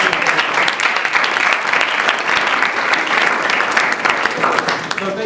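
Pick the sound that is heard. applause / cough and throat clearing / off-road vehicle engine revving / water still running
applause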